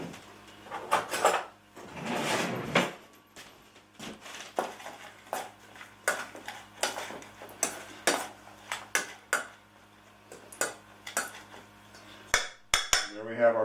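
Pico de gallo being mixed with salt in a bowl, with a string of rhythmic spoon clinks and scrapes against the dish, close and fairly quiet, separated by short pauses.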